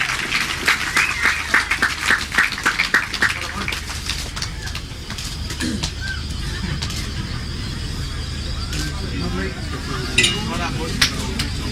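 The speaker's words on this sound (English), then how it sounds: "If we can just have a one big round of applause for our Sidecar winners, John Halsey and Jeremy Wills" Spectators at an international sidecar grasstrack race meeting clap for the winners, scattered applause that is fairly distant and thins out, with a public-address voice and crowd noise carrying on over it.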